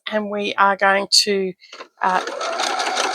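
A sewing machine stitches quilt-block fabric, a steady mechanical whir that starts after about two seconds and runs loud and close to the end. Someone talks just before it.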